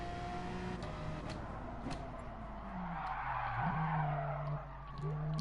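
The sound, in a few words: race car skidding in Gran Turismo racing video game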